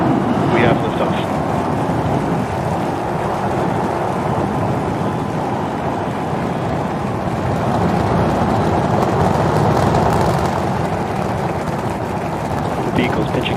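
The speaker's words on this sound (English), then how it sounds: "We have liftoff." A SpaceX Starship rocket lifts off at Starbase, Texas, with a deep, continuous rumbling roar that stays loud and steady throughout, with crackling texture and a faint voice underneath.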